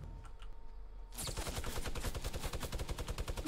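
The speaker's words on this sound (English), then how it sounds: "He tried to hit me with a minigun" A minigun opens up in a video game, a sudden sustained stream of rapid-fire shots with a fast, even rattling rhythm, loud and close after a brief quieter lead-in.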